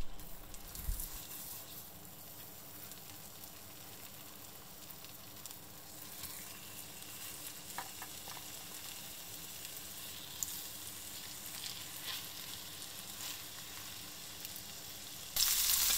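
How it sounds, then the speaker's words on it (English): Steady, quiet sizzling of a salmon fillet frying in butter over medium heat, a soft continuous crackle with occasional faint pops. "In a frying pan, melt the butter and cook the salmon fillet over medium heat"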